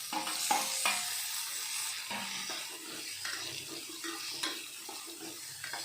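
Onions fry in a pan with a soft, steady sizzle, broken by occasional scraping and stirring clicks, close and fairly quiet with no talk.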